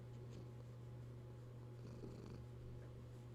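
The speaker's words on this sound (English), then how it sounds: "Maybe you can hear him purring." Rosie, a pet cat, purrs softly and steadily at close range, a low, continuous rumble without breaks.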